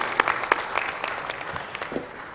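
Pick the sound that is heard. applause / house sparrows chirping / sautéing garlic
applause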